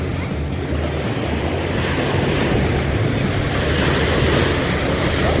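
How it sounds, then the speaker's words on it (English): Steady ocean surf at a beach, a loud continuous wash of breaking waves and rushing water with no clear gaps. "Look at Matt Quinn, becoming one with the ocean"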